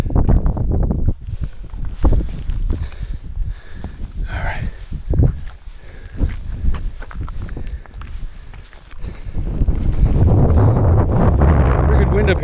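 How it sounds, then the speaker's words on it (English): Strong wind buffets the microphone on a mountain summit, a steady rushing roar that swells louder toward the end, with a person talking over it and footsteps crunching close by. "pretty good wind up here, I'm sure you can hear"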